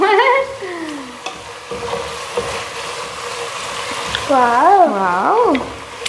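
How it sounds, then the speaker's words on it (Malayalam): Thick condensed milk is stirred into carrot halwa in a pan, with steady scraping and a soft sizzle throughout, while a voice speaks over the stirring at the start and again near the end. "ചെറിയ കപ്പ് കണ്ടൻസ്ഡ് മിൽക്ക് മുത്തൂസ് ഒഴിച്ചു ഇനി ഇത് മിക്സ് ചെയ്യൂ"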